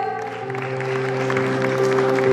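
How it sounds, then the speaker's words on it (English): Parents applaud at a school prize distribution ceremony, a steady wash of clapping from a seated audience that swells slightly louder toward the end, with a sustained tone held underneath. "Please parents keep on clapping for the child."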